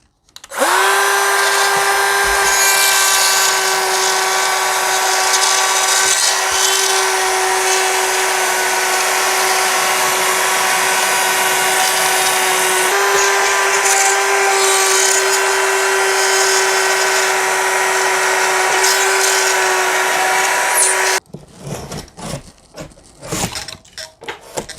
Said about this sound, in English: I need to cut this line out without having to take down the whole piece of drywall